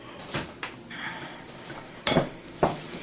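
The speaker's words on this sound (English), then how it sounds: "we're just mixing this up" Apple crisp crumble being worked together with butter in a large bowl, heard as sparse clinks and scrapes of a utensil against the bowl, with two sharper knocks near the end.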